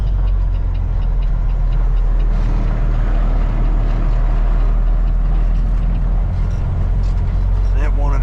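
A delivery truck creeps slowly down a loose, freshly chipped gravel road, its engine a steady low rumble with crunching tyre noise throughout, loud and close.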